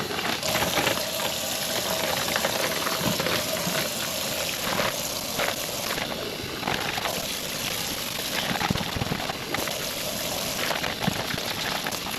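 Water sloshes and splashes continuously as freshly caught smelt are swished and rinsed in it, with running-water noise throughout and no speech.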